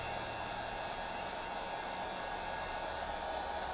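Heat gun blowing steadily on epoxy resin to pop bubbles, a constant airy whir that stays level throughout, close, with no talk.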